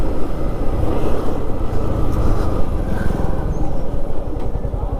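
A 2024 Yamaha MT15 motorcycle in pure black, its engine droning steadily and loudly while being ridden on the road, with constant wind rush and no talking.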